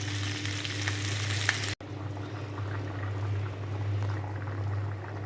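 Curry bubbles and sizzles steadily in a pan, a continuous close boil with a brief break, and no one talks.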